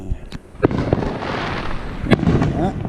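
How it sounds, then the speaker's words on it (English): Neighborhood Fourth of July fireworks at night: sharp, loud bangs and pops, a few distinct booms and crackling bursts near and far over a dense rumbling background. "all the neighborhood people are gonna be shooting off their fireworks."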